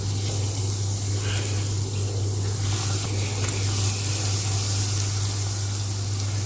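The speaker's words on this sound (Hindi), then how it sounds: "तो बस इसे गोल्डन ब्राउन होने तक हमें फ्राई करना है" Potato cheese balls frying in moderately hot oil, giving a steady, close hiss and crackle that stays even throughout with no voices over it.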